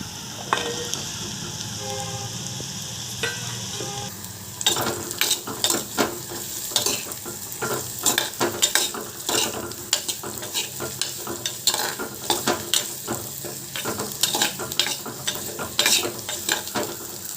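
Drumsticks frying in a pan for a drumstick curry, a steady sizzle with rapid, irregular scraping and clattering as they are stirred, close and busy throughout.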